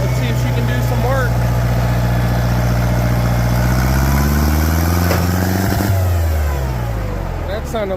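A Farmall 504 tractor engine runs loud and close, a steady low rumble with rising and falling revs, and the pitch sweeps down near the end as the throttle drops.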